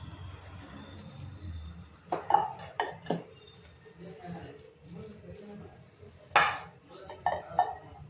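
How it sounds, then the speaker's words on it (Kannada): Bottle gourd halwa spooned from a pan into a serving bowl, with a few scattered metallic scrapes and clinks of spoon on dish over a low steady background. "ತುಪ್ಪ ಕಾಯೋವರೆಗೂ ಹಲ್ವಾನ ಸರ್ವಿಂಗ್ ಬೌಲಿಗೆ ಹಾಕೋಣ."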